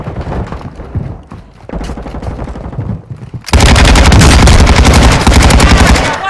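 Sustained automatic gunfire in a military shooter video game, quieter shots at first, then a loud, dense burst of rapid fire from about the midpoint to the end, with no talking.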